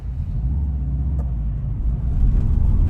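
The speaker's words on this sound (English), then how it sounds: "pulling away in the Subaru, and straight away you can hear that unequal length header burble" A 2004 Subaru WRX wagon pulls away with its turbo flat-four and unequal length headers giving a deep, lumpy burble, a steady low rumble that swells slightly louder toward the end, close and continuous.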